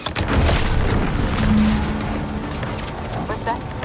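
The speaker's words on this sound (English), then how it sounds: "What's that? An explosion?" A deep explosion rumbles in the video game Outer Worlds 2, a heavy boom with rolling low-end debris and crackle that lingers under voices speaking.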